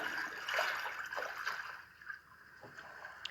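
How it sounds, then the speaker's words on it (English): Lake waves setting on a white noise machine: soft, uneven lapping and splashing water with small gurgles, moderately quiet and continuous, no voices. "lake waves"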